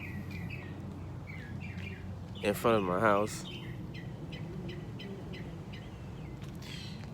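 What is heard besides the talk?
birds chirping outside in the morning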